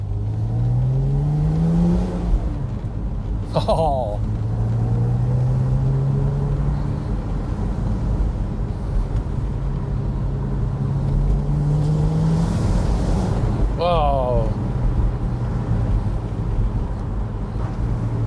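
An original Porsche Spyder engine idles and revs, with rising and falling engine tones sweeping up in a couple of sharp blips, loud and close throughout; a man briefly exclaims in surprise.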